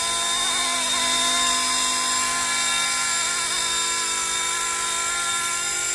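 Radio-controlled scale MD500 model helicopter hovering in place with automatic altitude hold, a steady loud high-pitched rotor and motor whine with constant tonal harmonics throughout, no talking.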